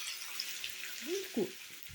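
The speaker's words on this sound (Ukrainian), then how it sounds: "Ось так і відправляю на розігріту вже сковорідку." Sliced onion rings dropped into a heated frying pan, giving a soft, steady sizzle with a few brief clatters and scrapes of handling close by.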